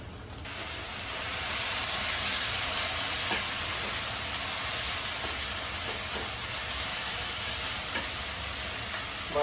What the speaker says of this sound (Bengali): মাছগুলো আমি ভেজে রাখছি হালকা করে।